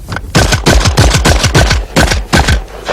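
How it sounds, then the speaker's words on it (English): A Benelli shotgun fired in rapid succession at thrown clay targets: a dense, loud string of booming shots, about ten blasts in three seconds, close and unbroken, with no talk. "There's 7 clay targets with a Benelli shotgun."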